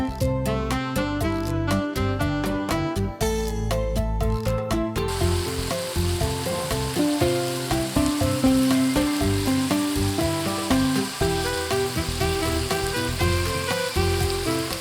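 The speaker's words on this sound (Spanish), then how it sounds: "Cuando el aceite está caliente, le adiciono la cebolla." Onion and garlic sizzle steadily in hot oil in a pan, a continuous frying crackle heard under background music throughout.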